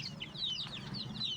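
Chickens recovering from a snoring respiratory illness cluck close by, a series of short, sharp, repeated calls over a faint, low background rumble.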